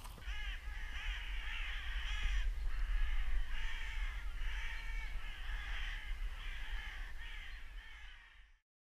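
Crows caw repeatedly during a crow hunt, their harsh calls coming in bursts over a low background rumble, fairly close and clear, before cutting to silence.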